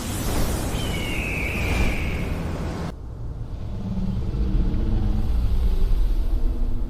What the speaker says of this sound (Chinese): 爆炸要来了！